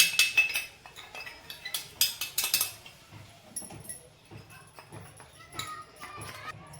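A spoon adds milk powder to a pan of milk on low heat for kalakand and stirs it in, with light metallic clinks and scrapes coming in irregular bursts while a person talks.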